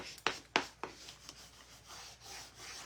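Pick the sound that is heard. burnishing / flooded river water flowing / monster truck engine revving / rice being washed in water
burnishing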